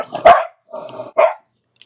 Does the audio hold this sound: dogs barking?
yes